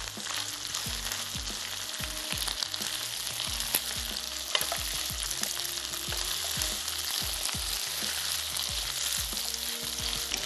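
Beef stir fry being mixed into sauce in a hot pan, a steady loud sizzle with repeated scraping and stirring strokes of the spatula throughout.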